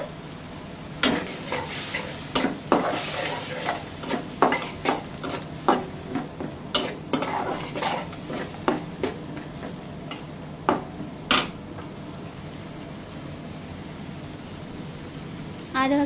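Turmeric and spices fry in a pan for a thin drumstick curry as a spoon scrapes and stirs in repeated clinking strokes over a soft sizzle, with the stirring stopping partway and the sizzle continuing alone.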